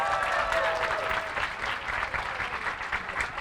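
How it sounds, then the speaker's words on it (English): An audience at a magic show applauds a volunteer walking up from the fourth row, with dense, fairly loud clapping that stays even throughout and a faint tone in the opening moments. "let's give her a huge round of applause"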